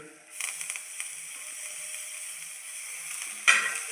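Vegetables with turmeric sauté in oil in a pan, a steady soft sizzle with a few stirring clatters near the start and a louder hiss flaring near the end.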